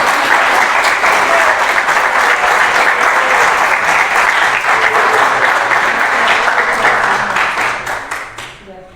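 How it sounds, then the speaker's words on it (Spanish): A church congregation breaks into loud, sustained applause, a thick wash of many hands clapping together that fades out near the end. "Yo creo que se merece un fuerte aplauso"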